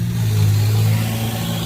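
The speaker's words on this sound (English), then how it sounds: "The exhaust on that car is just absolutely amazing." A car's aftermarket exhaust rumbles loud and close in a deep steady drone, held under revs with no talking.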